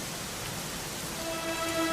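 Steady rain falls in a Dragon Quest XI game scene, a continuous wash of hiss with soft pattering drops, joined near the end by faint sustained musical tones.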